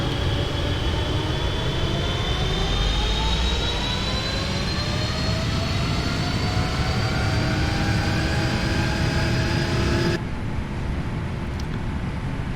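Boeing 777 jet engines in a flight simulator spool up toward takeoff power, a steady loud roar with rising tonal whine that holds throughout before cutting off abruptly near the end.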